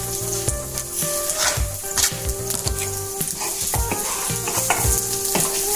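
Garlic and onion sizzle steadily in a pan on low heat, a continuous close crackle with occasional stirring scrapes and a faint tonal hum beneath, no talking.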